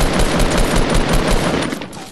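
Automatic weapon fire in the battle royale game Fortnite, a loud rapid burst of shots in quick even rhythm that tapers off near the end, with no talking.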